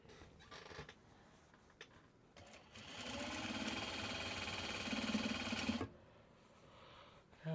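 A sewing machine whirs steadily for several seconds at moderate loudness, starting after some faint clicks and handling sounds and then stopping abruptly.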